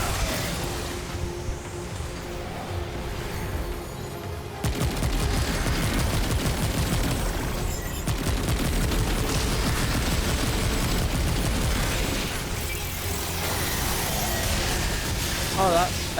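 Rapid, sustained gunfire from an infinite-fire gun in the video game Remnant 2, a dense continuous barrage with booming impacts throughout, loud and close, with a voice talking over parts of it.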